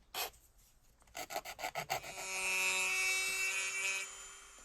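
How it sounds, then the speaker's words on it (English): A few quick rasping file strokes on the edge of a gourd, then a longer steady scraping rasp up close that fades out. "Files are also helpful to smooth and shape the edges."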